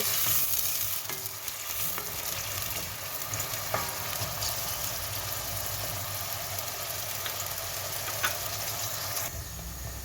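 Two onions fry in a pan for an eggplant dish, giving a loud, continuous sizzle close by, with occasional light scrapes and knocks as they are stirred, and no voices.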